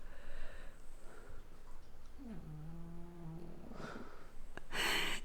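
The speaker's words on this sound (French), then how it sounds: "Il ronfle" A dog snores indoors, each drawn-out nasal rumble rising and falling in a rough, tonal rattle, with quieter breathing snuffles on either side and a brief sharper snort near the end, close to the mic with no talk.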